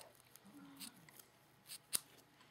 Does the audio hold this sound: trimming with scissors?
yes